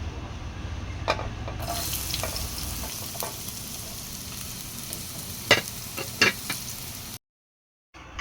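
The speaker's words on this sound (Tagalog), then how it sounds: "Naglagay po siya ng mantika. Naglagay din po siya ng sibuyas." Onion fries in cooking oil in a pan for tuna pasta, a soft steady sizzle with a few louder clicks and stirring knocks, ending in a sudden cut to silence.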